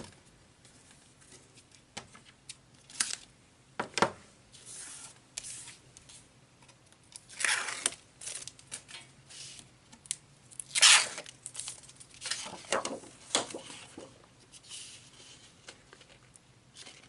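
Score tape torn and handled by hand while assembling a scrapbook layout with texture paste: a series of sharp, close tearing and crinkling bursts at an irregular pace, with quiet handling between them and no talk.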